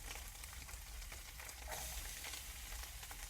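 Ground meat browning in a frying pan gives off a faint, even sizzling hiss that holds steady throughout, with no talking.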